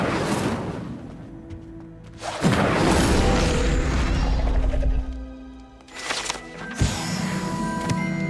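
The Incendio fire spell goes off in the video game Hogwarts Legacy with a sudden loud whooshing roar of flame that holds for a couple of seconds, followed by another bright burst and lingering game sounds.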